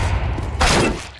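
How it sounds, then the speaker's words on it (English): In a Counter-Strike match, a grenade is thrown, giving a single close, dull burst with a low thump over a low background rumble. "Throwing a grenade"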